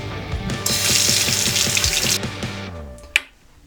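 A newly installed Moen bathroom sink faucet runs hard to bleed the lines, giving a loud, steady rushing stream with a humming pipe tone. The water then cuts off, followed by a sharp clunk.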